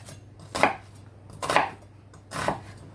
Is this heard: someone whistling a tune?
no